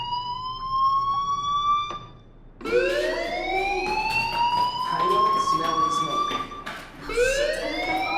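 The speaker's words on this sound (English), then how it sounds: "Hey, do you hear that fire alarm?" A fire alarm in Life is Strange wails with rising, siren-like sweeps that cut off briefly and then start up again, loud and repeating.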